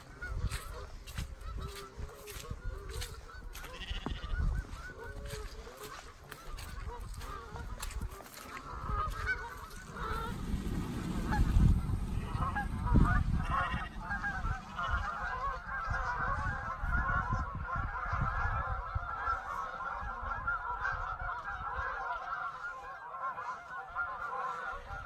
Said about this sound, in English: all the geese taking off together